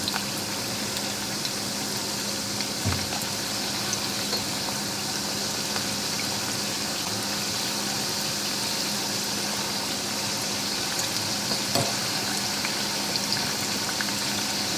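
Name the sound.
Schmalzgebäck pastry frying in hot oil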